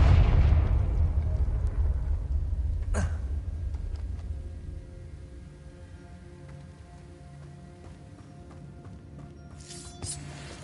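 A Confringo spell blast in Hogwarts Legacy, a loud low explosive boom at the start that rumbles and fades, with a sharp crack near three seconds and another burst near the end.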